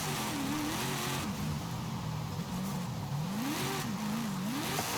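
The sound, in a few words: V8 car engine revving in video game Forza Horizon 5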